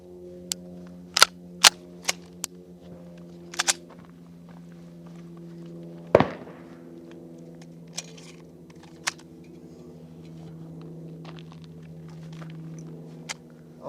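A Springfield 1911 DS Prodigy pistol fires several sharp single shots in uneven spacing on a range, some close together, with one louder report midway and quiet gaps between.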